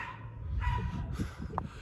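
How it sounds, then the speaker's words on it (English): Several dogs bark and yip excitedly at a moderate distance in short, irregular bursts over a low background hum, with no talking. "Boy, those dogs are going nuts."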